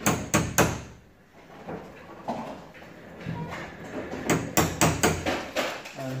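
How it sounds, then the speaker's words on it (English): A hammer taps a five-lever mortice deadlock into a wooden door, with sharp knocks in quick bursts of two to four, a brief pause between groups, and light clatter from the door itself. "So tap that in slightly with a hammer."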